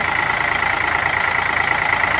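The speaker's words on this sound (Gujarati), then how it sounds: "ઉંદરા ગામ ઠાકોર ચમનજી પુનાજીનું ટ્રેક્ટર સાથે થેસર અને ઠાકોર વણાજી મલાજીની બાદરી કાઢી રહ્યું છે" A tractor engine runs a thresher for pearl millet steadily and loudly up close in Undra village, Gujarat, with machinery hum, a continuous droning rumble with no pauses.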